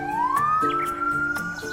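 A toy police car's electronic siren wails in a rising sweep that holds steady and loud over a backdrop of clicks and a low hum, heard up close with no talking.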